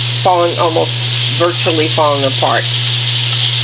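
Rock cod fish fillets frying in hot oil, a steady bright sizzle running throughout while someone talks over it in bursts.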